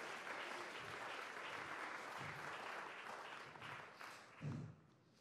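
A church congregation applauds during a sermon, a steady wash of many hands clapping at moderate distance that fades near the end with a few dull thumps.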